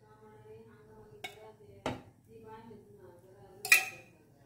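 A metal spoon knocks against a pan as oil goes in for fish cutlets, with three sharp clinks spaced over a few seconds against faint background hum.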